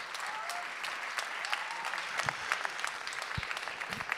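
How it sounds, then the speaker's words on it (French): Applause from an audience for singers at a live music show, steady clapping of moderate loudness with a few sharper individual claps standing out, and no talk over it. "Bravo encore, applaudissez-les."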